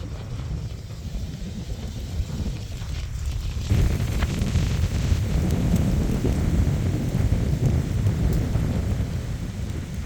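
Strong wind roars and buffets loudly over wet Pennsylvania public land, with a low rumbling gust that swells partway through and stays intense, mixed with a rain-like hiss.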